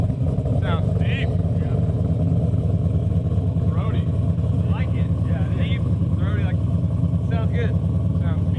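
Fitted with full Kooks stainless long tube headers and exhaust, a Dodge Demon holds a deep, loud, continuous idle with a slight chop, and brief chirps and noises pop up above the rumble.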